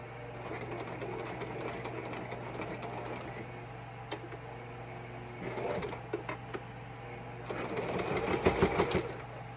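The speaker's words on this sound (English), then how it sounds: "So I'm going to French seam this, make it a circle" A sewing machine runs steadily while stitching a French seam on black striped pant fabric, a continuous mechanical hum that picks up into faster, louder bursts toward the end.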